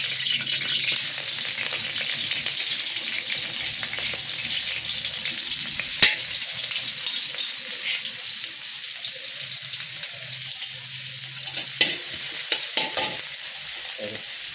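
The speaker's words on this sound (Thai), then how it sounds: "ติดแก๊สใส่มันพืชลงไป ใส่พริกไปเลย" Chilies frying in vegetable oil in a pan over a gas flame, a steady close hiss and crackle of hot oil with a few sharp clinks of a utensil, no talk.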